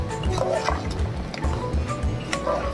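Chettinad-style mutton nalli kulambu with ground fennel paste is stirred in a pan, giving soft, wet squelches and drips in an irregular rhythm, close by, with faint background voice.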